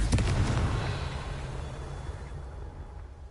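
A single Confringo fire-spell explosion in Hogwarts Legacy, a loud close boom that opens sharply and then rumbles and decays over a few seconds.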